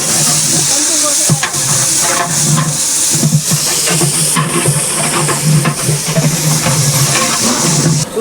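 Thirty kilos of curry cooking in a large pot for a 500-person village feast, with onions and mint added, give a loud, steady hiss and sizzle that runs without a break and carries a low rumbling roar beneath it.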